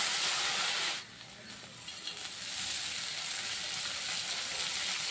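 Tummi leaves sizzle in hot oil in a pan, a steady close hiss that drops briefly as they go in, then rises back into constant frying.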